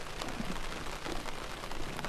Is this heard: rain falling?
yes